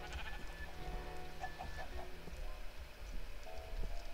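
Sheep in the Minecraft video game bleating a few times, short wavering calls over steady background noise and game sounds, moderately faint.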